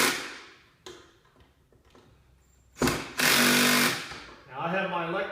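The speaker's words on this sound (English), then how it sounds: "Now I have my electric screw gun here adjusted to torque so it's not going to over torque in the plastic." Electric screw gun driving screws into the plastic housing of an Earthwise 14-inch snow thrower, torque-limited, heard as a few short buzzing bursts, one long loud run near the end, with light handling noises between.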